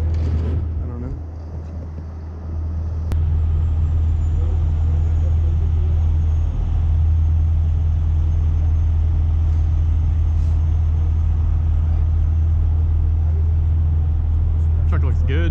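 A truck engine idles in a steady, loud low rumble while the truck is backed into position to lift a custom house with a rotator; the drone holds throughout, with people talking over it.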